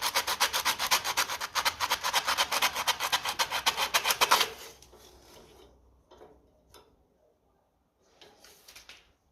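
A part from a 1957 Ferguson FE35 TVO tractor is rubbed back and forth rapidly, a loud, rhythmic rasping scrub for about four seconds, then quiet handling noises and a brief faint scrape.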